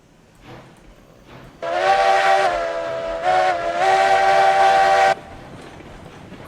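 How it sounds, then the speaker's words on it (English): A steam locomotive whistle in the video game RailRoads Online sounds two loud, rich blasts, a short one followed by a longer sustained one, standing out clearly over a quiet rumbling background. "Great whistle on this locomotive."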